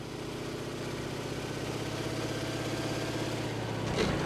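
A de Havilland Otter bush plane's piston engine idles with a steady, pulsing low rumble, close and even throughout, with a slight rise in loudness near the end.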